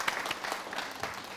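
Brief burst of audience applause at a Burkina Faso TV show, moderately loud with scattered claps spread across the moment, no voices over it.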